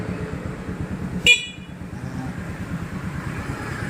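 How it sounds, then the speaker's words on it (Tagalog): A single short motorcycle horn beep sounds once over a steady engine idle, loud and close. "ito yung busina"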